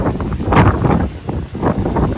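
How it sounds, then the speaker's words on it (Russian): Strong wind buffets the microphone in loud, rumbling gusts that rise and fall for a couple of seconds, with no voices. "Видите, какой ветер у нас."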